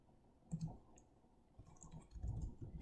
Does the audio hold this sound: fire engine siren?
no